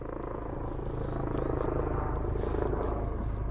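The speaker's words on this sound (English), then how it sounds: "we've got a rescue helicopter away to come over our heads" A search and rescue helicopter's steady rotor and engine drone fills the clip, loud and continuous, as if passing close overhead.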